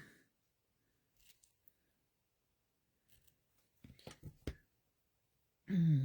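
Scissors snip through paper for a handmade card, a few short quiet cuts in an otherwise still room, followed by a louder rustle at the end.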